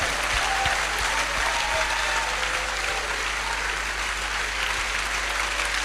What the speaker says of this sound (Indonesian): Tepuk tangan yang sangat meriah saudaraku.